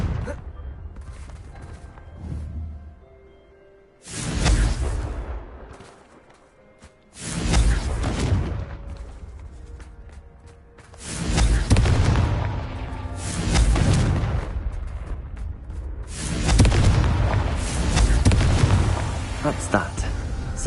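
Booming spell blasts in the Hogwarts Legacy video game, several loud bursts that each decay over a second or two, spaced apart and growing denser toward the end. A voice speaks between them.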